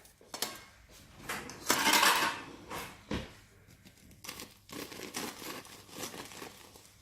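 A homemade jam doughnut being cut open, a knife rasping and crinkling through the dough in several short bursts against a plate, close and fairly quiet with no talk.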